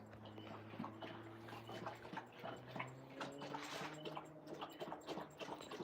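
An Alaskan Malamute laps water from a bowl: quick, rhythmic wet slurps and clicks, close by and fairly quiet, with no talk.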